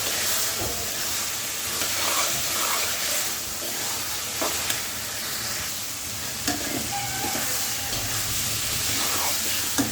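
Shrimp frying in oil in a pan while being stirred and sautéed for a Bengali chorchori with pumpkin and potato, a steady loud sizzle with scraping stir strokes and occasional clacks throughout, no voices.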